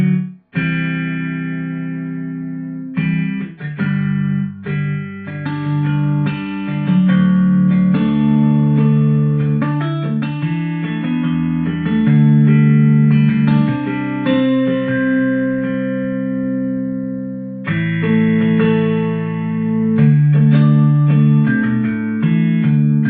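A lo-fi cinematic guitar tone from the Fracture Sounds Hemisphere plugin plays a loud, sustained chordal passage with heavy effects, distortion and reverb, with a brief break near the start and another before the end.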